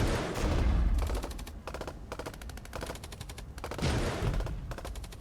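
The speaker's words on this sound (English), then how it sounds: "you can see they're using anti-tank weapons" Anti-tank weapons and rapid gunfire crackle through a battle in the real-time wargame Regiments, with dense bursts of machine-gun fire and heavy thumps overlapping continuously at moderate loudness.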